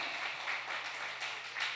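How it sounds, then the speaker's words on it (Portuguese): A church congregation claps together in a soft, steady patter, fairly distant and faint, with slight swells in loudness and no voices above it. "vamos aplaudir o Senhor"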